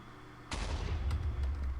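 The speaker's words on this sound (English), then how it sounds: "That's what I was worried about, the explosions." A sudden deep blast booms out halfway through in a modded Minecraft world, followed by a rumbling, crackling tail of smaller bursts, with no speech.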